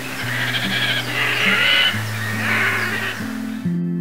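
A grebe smaller than the great crested grebe calls in spring at the Milicz fish ponds in Poland, giving repeated harsh, squealing cries like a wild boar's, fairly close over a low steady background hum.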